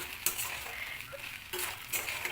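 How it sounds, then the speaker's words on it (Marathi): Poha being sautéed in a pan after coriander is added, a soft steady sizzle with a few scrapes of a spoon against the metal, fairly quiet and close, with no talking. "थोडं पोहे परतून घ्यायचे"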